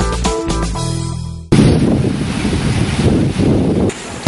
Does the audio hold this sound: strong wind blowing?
yes